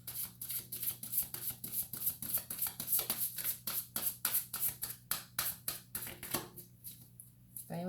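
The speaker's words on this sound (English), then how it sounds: "why I shuffle short sometimes and why I shuffle forever" Tarot cards shuffled by hand, up close, in a quick rhythmic run of soft riffling bursts that repeats steadily before slowing near the end.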